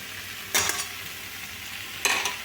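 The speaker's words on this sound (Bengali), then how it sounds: "কাজুগুলো দিয়ে ভালো করে নেড়ে" Cashews stirred in hot oil in a pan, two short bursts of spatula scraping and rattling over a quiet, low background sizzle.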